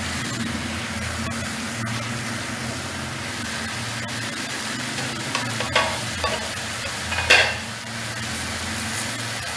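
Chicken chow mein stir-frying in a hot pan as green onion and green garlic go in, a steady loud sizzle with a few scrapes and clinks of the spatula, no talking.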